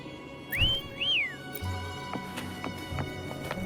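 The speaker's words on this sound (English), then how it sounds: "Try whistling." In the video game Wuthering Waves, a character gives a short two-note whistle, each note rising and falling, followed by soft game-world thuds and steps.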